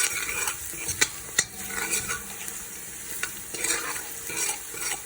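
Curry powders for a Trinidad-style curry duck cook on very low heat, a soft continuous sizzle broken by spoon scrapes and a couple of sharp taps against the pot, close and unhurried, with no talking.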